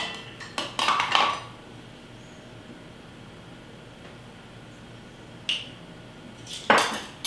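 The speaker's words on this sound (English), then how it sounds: "I'll give that a quick whisk just to combine that in." Whisk clinking against a bowl of milk, eggs, vanilla and salt, in short loud bursts at the start and again near the end with a quiet pause between.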